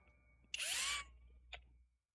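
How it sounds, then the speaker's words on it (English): A power drill whirs in one short, high-pitched burst, then a brief faint second whir, close by in an otherwise quiet space, drilling beside a hole in a birdhouse. "I'm actually going to drill alongside this hole."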